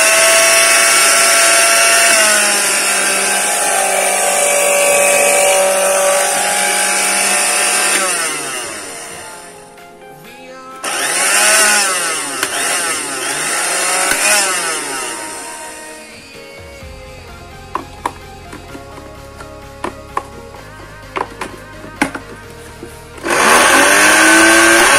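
A National blender motor whirs loudly and steadily after repair, its pitch shifting as it speeds up and slows, then cuts back in after a brief lull.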